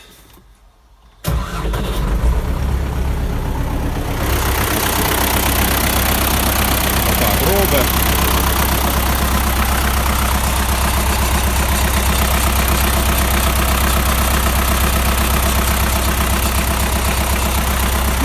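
A car engine starts after a moment of quiet, then settles into a loud, steady idle with a constant low rumble for the rest of the clip.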